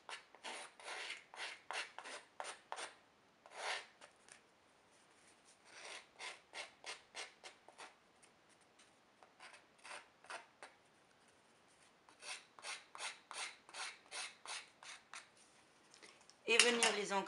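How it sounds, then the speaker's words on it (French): Edges of a paper craft explosion box being worn down, close bursts of quick rasping strokes in rapid series separated by short pauses, with a brief louder scrape at the end. "c'est user un peu les bords."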